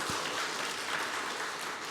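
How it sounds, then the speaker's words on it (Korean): A church congregation applauds during a Sunday worship service after a prayer of thanks, steady dense clapping filling the room at moderate volume throughout. "우리 하나님 앞에 영광의 박수 올려드립시다."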